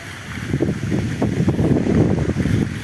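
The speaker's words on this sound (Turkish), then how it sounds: "Şu an hava kapalı, serin serin rüzgar esiyor." Steady wind rushing across the microphone in low, rumbling gusts on an overcast day near Istanbul, continuous for the whole stretch with no voices.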